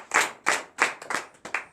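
A congregation at a Saturday morning prayer service in Benin claps in rhythm, six sharp, evenly spaced rounds of clapping, close and fairly loud, with no talk over them.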